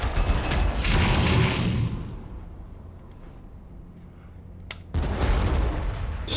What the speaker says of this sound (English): I'm definitely going to open fire with the Lehman Russ here